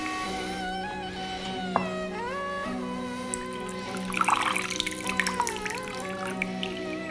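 Water drips while vegan ramen soup cooks, a run of small wet taps and trickles over a steady tonal hum from the kitchen, growing busier and a little louder in the second half.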